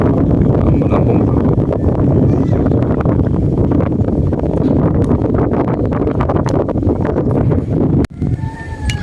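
Strong wind buffets the microphone in a dense, roaring rumble that persists throughout, with a short dropout near the end.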